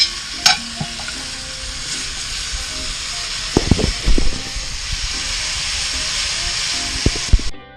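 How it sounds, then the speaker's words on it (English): Oxtails brown directly on the plate setter of a Big Green Egg ceramic grill at about 400 degrees. A steady, close sizzling hiss carries throughout, broken by a few clanks and scrapes from tongs or a spatula, then stops abruptly. "Just brown the oxtails before I add the onions."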